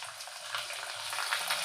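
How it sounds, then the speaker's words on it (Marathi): Potato and sago papad fry in hot oil with a continuous bright sizzle and bubbling, close and steady throughout, no talking. "तर बटाट्याचे पापड मी तुम्हाला तळून दाखवतेच।"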